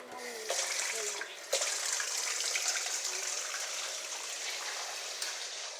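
Hot water pours steadily from a tap at close range, a soft continuous hiss and splash that holds through the whole stretch with one brief knock near the start.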